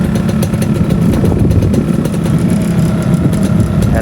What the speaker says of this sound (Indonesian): sekarang saya bakal nunjukin suara dari RX King New Master ini ya teman-teman